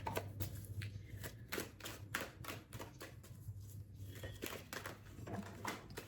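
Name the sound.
tarot cards being shuffled, two cards falling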